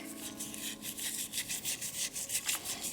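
Steel wool rubbed over the fine rust coat on a bell from a 1916 W.L. Gilbert mantle clock, giving a soft, close, steady back-and-forth scrubbing in rhythmic strokes with no talk.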